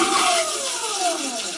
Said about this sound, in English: press the other button to flush the toilet